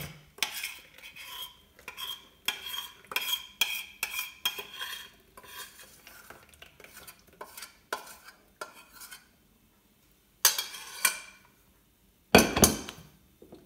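Chocolate muffin batter being stirred in a bowl, a close, rhythmic series of utensil scrapes and clinks against the bowl, pausing briefly before a few louder knocks at the end.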